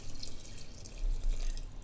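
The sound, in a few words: water being poured into a cooking pot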